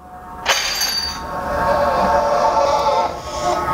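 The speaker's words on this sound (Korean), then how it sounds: "뭐 깨졌어. 와인이 깨지고." Wine glass shattering in a music video teaser, a sharp crash near the half-second mark followed by a long, bright ringing and tinkling that carries on over a low background hum.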